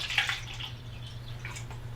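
Distilled water poured into a PC water-cooling radiator, a short, soft trickling splash near the start that thins into faint drips over a steady low hum.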